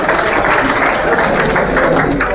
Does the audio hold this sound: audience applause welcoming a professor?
yes